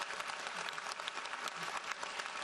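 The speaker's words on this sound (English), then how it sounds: "you may all applaud for them" Steady, dense clapping from a seated audience at a 2019 high school graduation ceremony, continuing evenly throughout.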